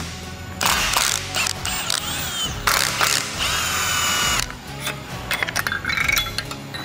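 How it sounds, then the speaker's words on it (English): Hand and power tools at work on a Ford TTB front suspension while taking off ball joints and knuckles: bursts of whirring impact or drill spin, metallic clinks and rattles, close and fairly loud, with no talk. "So let's get to turning some wrenches."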